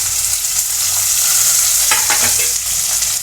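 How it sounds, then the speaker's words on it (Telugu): Fried onions, green chillies and curry leaves hiss loudly in a pan as they are stirred, giving a dense, steady sizzle with a brief cluster of spoon scrapes near the end. "మంచిగా దూరగా అయ్యే వరకు ఇలా కలుపుతూ ఉండాలి"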